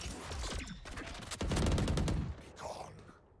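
Rapid bursts of automatic gunfire from the tactical shooter Valorant during a late-night ten-player custom match, loud and close with dense overlapping shots and a brief lull near the end.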